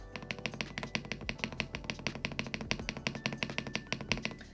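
Rapid, steady tapping of a mechanical keyboard spacebar, many sharp clicks in quick even rhythm, close and fairly quiet.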